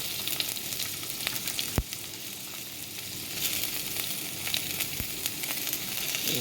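Shallots, green chilli and ginger frying in a pan, a steady close sizzle with a few sharp spits and crackles standing out, and no voices.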